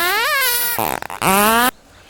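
Loud, close fart noises in a comedy sketch: a rising sputter, a ragged broken burst, then a long drawn-out blast that stops abruptly.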